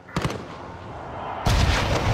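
Gunfire in the video game Call of Duty Modern Warfare: a brief burst of rapid shots early, then a heavier, louder volley of booming fire that keeps going to the end.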